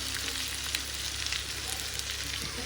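Homemade masala with turmeric sautéing in a pan for a prawn curry, a steady close sizzle and crackle running continuously without speech.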